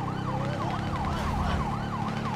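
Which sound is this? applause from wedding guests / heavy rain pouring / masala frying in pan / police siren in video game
police siren in video game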